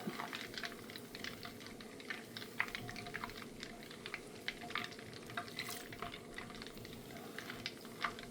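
Butter simmers in a pan as it cooks down into ghee, giving a faint, steady bubbling and crackling sizzle with scattered small pops throughout, no talking.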